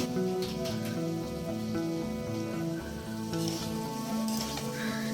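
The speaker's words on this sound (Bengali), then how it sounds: "একটু জল আমি অ্যাড করে দিয়েছি এবার আমি ভালো করে আরেকবার নাড়াচাড়া করে দেবো" A poppy seed dish with a little added water sizzles in a pan, a continuous close bubbling hiss with soft stirring scrapes, no talking.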